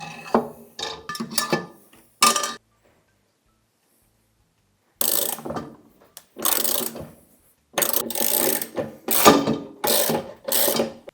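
Ratchet tool tightening a screw on a washing machine motor, bursts of quick rapid clicking separated by short pauses, close and fairly loud with no talk.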